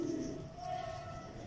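A breeder pigeon gives a soft, low, rolling coo up close, one continuous call against faint background noise.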